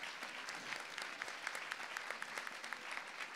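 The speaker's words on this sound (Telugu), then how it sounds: "ఇవాళ తెలిసిపోవాలి మీ చప్పట్లతోటి ఎంతో ఏమో అనేది క్వాంటిఫై అయిపోవాలన్నమాట అలా కొట్టాలి చప్పట్లు" A crowd claps at a felicitation honoring a legendary violinist, continuous loud applause with individual sharp claps popping out of the steady roar, no speech over it.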